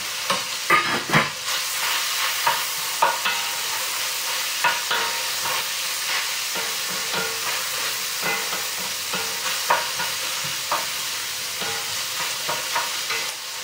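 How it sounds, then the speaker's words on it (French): Onions sautéing in a pan, a continuous bright sizzle with frequent light scrapes and taps of a utensil stirring them, close and fairly loud, steady throughout with no talking. "Allez, on fait revenir nos oignons."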